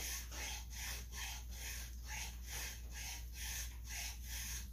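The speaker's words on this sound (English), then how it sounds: "We're gonna sand the gas tank just a little bit here and smooth it up." Someone sands and files a chainsaw gas tank by hand with a faint, rhythmic back-and-forth scraping, about eight to ten strokes over a steady low background hum.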